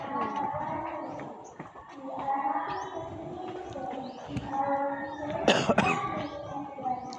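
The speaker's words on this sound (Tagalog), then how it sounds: "Ayun sa ubo ko." A person's cough, a short, fairly faint burst standing out from a muddle of low background sounds and murmuring, heard once near the end.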